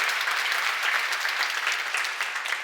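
A church seminar congregation claps together, a dense, even burst of many hands at moderate level that holds steady and tapers slightly at the end.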